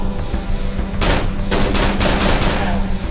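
Gunshots in the video game Cry of Fear, with several loud, sharp shots fired in quick succession at close range after a brief quieter lead-in.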